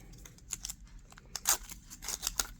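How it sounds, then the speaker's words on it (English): Plastic wrapping on a Galaxy Buds 2 Pro earbuds box is cut and peeled away, quiet close crinkles and snips in short irregular bursts. "Let's unwrap it."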